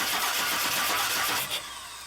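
Cranking of a 2002 Chevy Silverado engine that will not start: a loud, continuous, close churn runs throughout, easing slightly near the end, with nobody talking.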